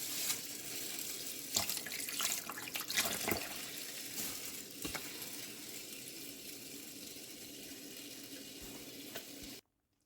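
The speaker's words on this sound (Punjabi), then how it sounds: "ਚਾਵਲ ਅਸੀਂ ਧੋ ਲੈਂਦੇ ਹਾਂ" Tap water runs into a kitchen sink while rice is washed, a steady rushing stream with occasional splashes and clatters, cutting off abruptly at the end.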